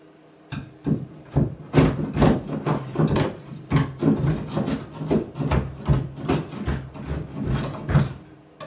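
Wooden carlins and frames on a boat under construction are faired by hand, with a steady run of close, loud rasping strokes in an uneven rhythm. No one speaks.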